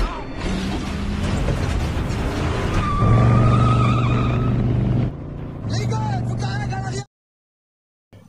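A car chase in an action film with gunfire, loud engine roar and mechanical noise under a dense dramatic score, with swells and shifts, then a sudden cut to near silence near the end.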